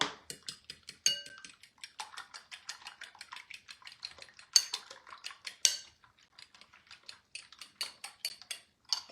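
Eggs are scrambled in a pan with rapid, rhythmic metal clicks and scrapes of a utensil against the pan, close and crisp, pausing briefly between bursts.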